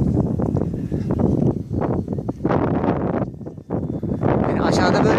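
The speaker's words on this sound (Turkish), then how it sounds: "Ama rüzgar fazla." Strong wind buffeting a microphone outdoors at an R/C aerobatic flying session, a continuous loud rumbling roar with gusty swells and brief dips, running the whole time.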